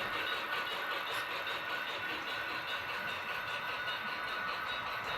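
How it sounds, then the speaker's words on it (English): HO scale model diesel locomotive leaving a turntable onto a service track on a club layout, a faint, steady motor whir with light rail rumble, continuous and somewhat distant. "we can see now one engine going off the turntable going onto one of the service tracks"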